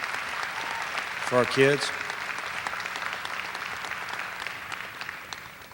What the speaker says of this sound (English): would you please give our coaches a round of applause for all the work that they do